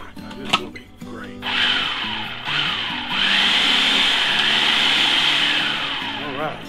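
A kitchen blender whirs in a few short pulses and then a longer run, chopping smoked salsa made on a Weber Smoky Mountain smoker down finer. The motor is loud and close, and a voice is heard between bursts.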